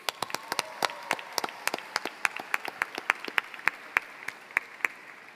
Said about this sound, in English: Give yourselves a round of applause real quick.